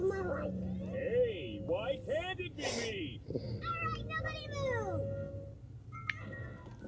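Several high, whiny Minecraft cat meows repeat in quick succession, close and clear, mixed with chirpy voices and small electronic blips.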